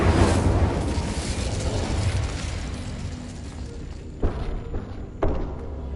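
In Hogwarts Legacy, the Incendio fire spell is cast as a rumbling burst of flame that fades over several seconds. Two sharper thuds follow near the end.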